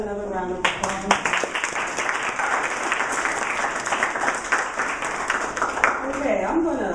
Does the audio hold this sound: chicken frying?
no